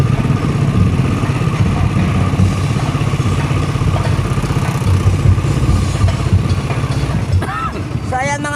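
Motorcycles and other vehicles flow along a street near Plaza Morga at night, a constant loud engine rumble and clatter of idling and passing bikes, with voices in the mix.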